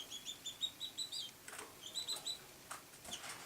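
Pet canaries in a cage chirping close by, a rapid run of bright repeated tweets followed by more scattered chirps, with faint fluttering and rustling between them.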